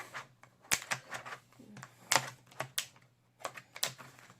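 Sharp plastic clicks of notebook pages pressed onto disc rings in an irregular series, close and crisp, with short pauses between bursts over a faint low hum.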